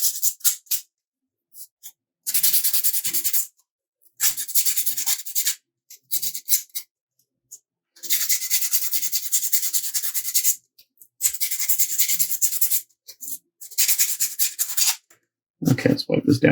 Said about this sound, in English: I'm not really sanding, just scuffing it up.